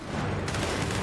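Loud, continuous automatic weapon fire in Gears 5, a dense barrage of shots that keeps going without a break.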